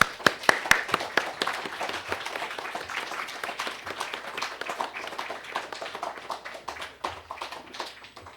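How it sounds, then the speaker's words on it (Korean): A church congregation claps to welcome a missionary from Chile. A few sharp, loud claps come first, then steady, lively applause runs throughout. "큰 박수로 모시고 있습니다"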